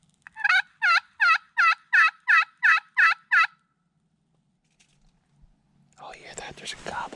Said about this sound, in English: There's a gobble way back over my right shoulder.